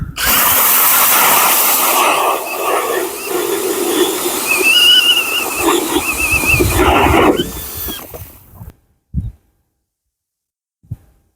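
A power auger bores a hole through thick lake ice for ice fishing, a loud continuous grinding drone for several seconds that cuts off abruptly, followed by a few faint knocks.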